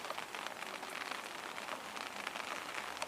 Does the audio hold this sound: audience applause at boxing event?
no